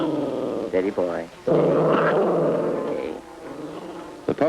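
A wild pup growls low and defensively in bursts, close and rough, with a voice speaking nearby.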